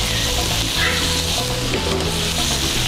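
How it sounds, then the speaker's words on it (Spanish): Potatoes frying in melted margarine in a hot pan, a loud close continuous sizzle with light stirring scrapes. "Para agregar la papa y empezarlas a dorar."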